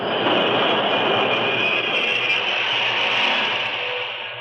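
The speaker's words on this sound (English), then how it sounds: "At 6 o'clock, the train reached Richland." Steady, loud rumbling rattle of a train car arriving at a station, broadband noise throughout with a faint whine, easing slightly at the end.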